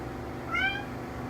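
A cat gives a single clear meow, close by, over a steady low hum at a boat dock.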